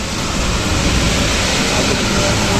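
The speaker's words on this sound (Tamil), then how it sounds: "மழை தண்ணி" Light rain falls outdoors at a house while rainwater pours down from the upper floor and runs below, making a loud, steady, unbroken rushing wash with no voices.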